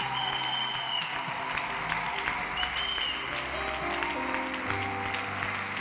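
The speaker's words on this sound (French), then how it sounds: "Acclamons le Seigneur s'il vous plaît" A church congregation breaks into sustained applause and cheering to acclaim the Lord, a dense, steady wash of clapping from a large crowd throughout.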